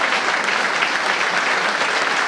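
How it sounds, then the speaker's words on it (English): Football crowd at Twerton Park for Bath City v Hungerford Town giving a sustained round of applause as a tribute, a thick, even wash of clapping from the stands throughout. "there is going to be a good round of applause around Twerton Park"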